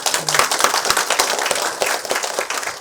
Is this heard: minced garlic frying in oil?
no